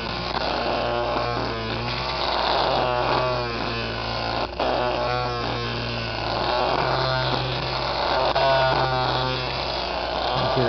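A low-speed Bedini ball magnet motor hums steadily while its pitch rises and falls in repeated revving sweeps, with a buzzing electrical tone underneath.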